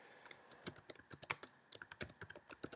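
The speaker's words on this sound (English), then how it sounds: "So I'm going to type in some text here." Rapid irregular keystrokes on a computer keyboard while text is entered into a spreadsheet, close and crisp with short pauses between bursts, no voices.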